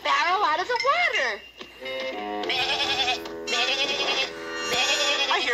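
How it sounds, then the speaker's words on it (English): Wavering, high-pitched bleats from a sheep repeat several times, loud and close, with short pauses between calls. "I hear sheep."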